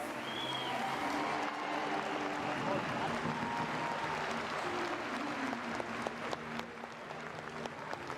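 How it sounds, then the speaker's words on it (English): A crowd at a fitness competition final applauds athletes standing on the podium, sustained clapping and cheering filling the hall, with a faint announcer's voice and music tones running underneath. "Big applause for our girls here on the podium."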